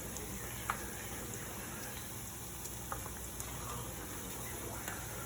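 A crumbled Maggi stock cube fries in hot oil for a Nigerian beef stew, a steady soft sizzle running throughout with a few faint ticks and pops, no voices.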